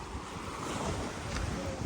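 Strong wind of about 20 miles per hour rushes and buffets a microphone on a beach at Panama City Beach, with a steady roar of surf underneath.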